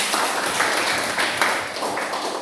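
A classroom audience claps together in a short, steady burst of applause with no pauses.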